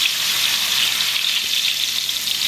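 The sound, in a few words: seasoned food added to hot grease, sizzling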